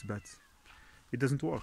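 Outdoors in a bean garden, a cat gives short meows close by, mixed in with someone talking.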